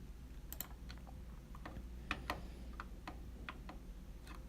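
A series of soft, sharp clicks, probably a computer mouse used while setting up an online test, sounding as scattered single and double clicks at irregular intervals over a quiet room hum.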